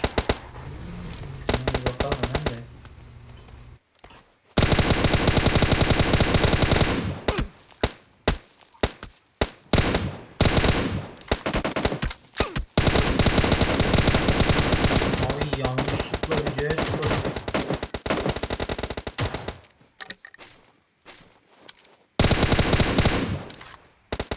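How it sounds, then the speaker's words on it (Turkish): Gunfire in a firefight in the PUBG video game on the Miramar desert map: loud bursts of automatic fire and single shots in rapid clusters, broken by short silent gaps. "aşağıda bir çatışma çıktı"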